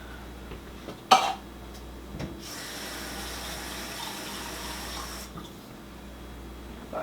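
Water runs from a tap into a can being rinsed out for crockpot bean and ham soup: a faint, steady splashing stream lasting a few seconds, preceded by a soft clunk, with no talking.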